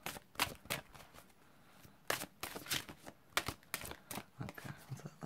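Playing cards being riffle-shuffled for a reading, a run of crisp rapid riffles and bridging flutters in separate bursts, close and clear with no talking.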